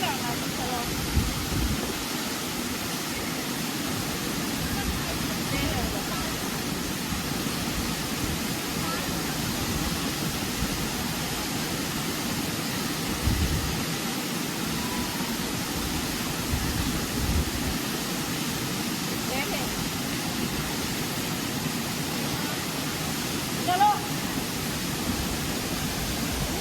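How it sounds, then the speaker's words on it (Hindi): The Choie waterfall in the Trithan Valley of Kullu, Himachal Pradesh, pours with a steady, broadband roar of falling water, constant and unbroken from start to finish. "फाइनली यहाँ छोई वाटरफॉल हम लोग पहुँच गए हैं और यहाँ से पानी गिरता हुआ ऐसे"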